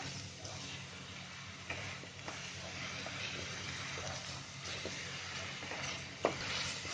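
Onion paste frying in a hot pan for a white chicken curry, a steady broad sizzle with occasional stirring scrapes and clinks, close and continuous.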